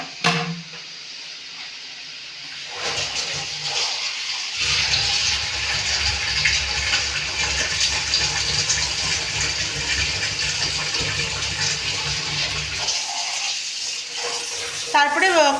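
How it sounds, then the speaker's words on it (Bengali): Water poured into a pan of fish curry masala for a koi fish and cauliflower jhol: a steady rushing pour with sizzling runs for several seconds, loud and close, with a voice speaking at the start. "তারপরে এর মধ্যে জল দেব।"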